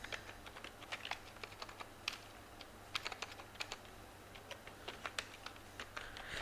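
JavaScript code being typed on a computer keyboard, with quick, irregular clusters of close, crisp keystrokes running steadily throughout. No voices.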